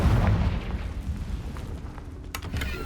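A Confringo fire spell detonates in the video game Hogwarts Legacy, a deep, rumbling boom at the start that decays into low crackling debris and a couple of short, sharp bursts near the end.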